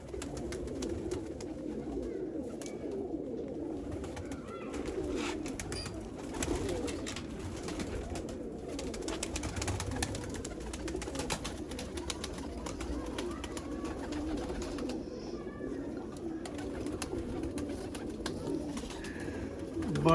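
Rare border-type teddy pigeons coo steadily in a low, throaty chorus, overlapping calls repeating throughout at close range with a constant soft background.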